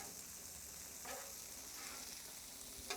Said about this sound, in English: Look at that butter cooking out right there.